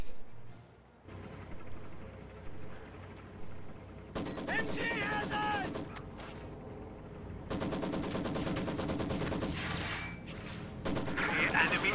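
Maxim machine gun firing in a tactical war video game, rapid bursts of distant-sounding gunfire over a busy battle backdrop with a voice commentating over it.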